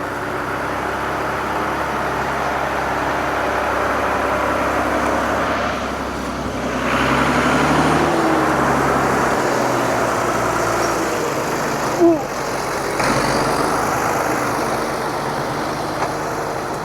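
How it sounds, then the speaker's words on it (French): A tractor engine works hard while pulling a trailer loaded with firewood across sandy ground, a continuous loud drone with shifts in pitch and a brief thump midway. "Tu vois comment quand il glisse le tracteur."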